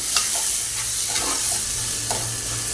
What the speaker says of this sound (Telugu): మసాలా అంతా వేసుకోవాలి తగినంత తగినంత మసాలా వేసుకున్న రెండుని కలుపుకోవాలి